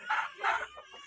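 Nine hens and a large, hefty rooster in a dirty coop where laying hens are kept, clucking and calling in two loud bursts followed by softer clucks, close by with no talking.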